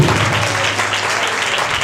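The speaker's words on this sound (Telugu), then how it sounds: "చప్పట్లు కొట్టడం యేసయ్య కొరకు." A revival-meeting congregation bursts into loud, sustained clapping, a dense continuous wash of many hands close by with no break and little voice over it.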